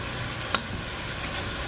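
Wine poured into a hot pan of browned sausage for deglazing gives a steady close sizzle with one brief sharper hiss partway through.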